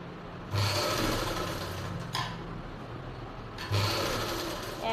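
A sewing machine stitches the edge of a baby frock in bursts, a steady whirring run broken by short pauses and restarts, close and clear.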